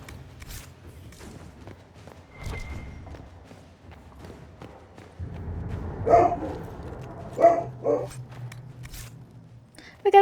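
A dog barks a few times, sharp, mid-distance yaps scattered among rustling and handling noises, with someone talking in the background.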